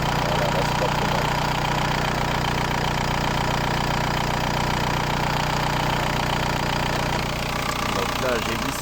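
A Volkswagen New Beetle TDI with the ALH diesel engine idles steadily close up, giving an even mechanical drone with faint diesel knock that holds for several seconds without voices.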